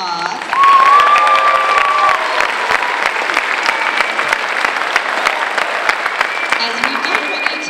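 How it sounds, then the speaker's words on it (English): An elementary school audience breaks into loud, sustained applause for students receiving awards at a 5th grade graduation, steady clapping that fills the room, with a brief whoop rising over it early on. "give all the students with the special awards another huge round of applause"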